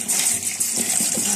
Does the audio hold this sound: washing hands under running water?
yes